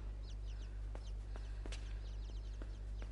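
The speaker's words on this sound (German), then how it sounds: "Ich höre Vögel." Birds cluck softly in the video game Inside, a scattering of short chicken-like clucks and light taps spread over a few seconds above a steady low hum.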